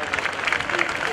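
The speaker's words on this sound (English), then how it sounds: "Let's give these guys a nice round of applause." A crowd at a Navy airshow applauds a legacy flight of vintage and modern aircraft, a brief burst of scattered clapping mixed with an announcer's voice over loudspeakers.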